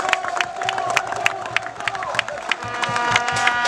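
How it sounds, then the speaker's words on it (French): A crowd cheers and acclaims the head of state at a roadworks launch ceremony for the RN12 road in Mayombe, with steady massed voices and scattered sharp claps or shouts continuing throughout. "Je vous prie de bien vouloir acclamer le chef de l'État"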